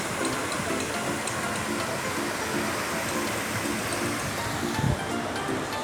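Flowing water at a feature in a large new water park in Phuket, Andaman, a dense, continuous rushing wash that fills the scene at steady loudness.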